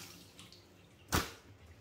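Water splashes once, sharp and close, while a flooded house is bailed out, with a faint watery background before and after.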